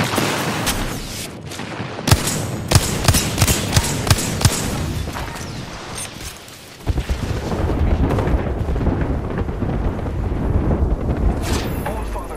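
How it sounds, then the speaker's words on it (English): Airstrike explosions in a PS4 shooter game, a burst of sharp blasts and gunfire-like cracks early on, then a brief lull and a sustained rumbling roar. "Airstrike."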